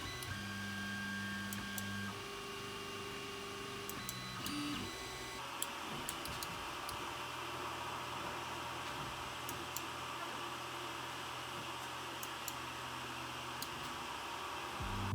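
Steady low whir of cooling fans from a running Creality Ender 3 3D printer, quiet and constant, with faint occasional ticks.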